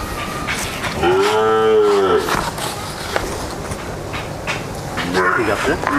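A large Holstein Friesian cow moos at a dairy farm, one long loud low call near the start and a shorter one near the end, heard close with background chatter and farm noise.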